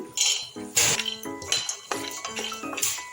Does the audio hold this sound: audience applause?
no